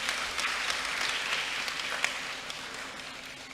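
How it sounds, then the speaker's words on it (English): Audience at a university inaugural lecture applauding, a steady wash of many hands clapping at moderate distance, fairly faint and continuous without any voices over it. "Let's give them another round of applause."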